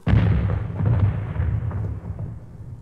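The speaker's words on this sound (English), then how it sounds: "this rambunctious riverboat happened to hit a snag in the river bottom. Ka-wunk!" A heavy booming crash as a riverboat hits a snag in the river bottom, then a deep rumble slowly fades away over a couple of seconds.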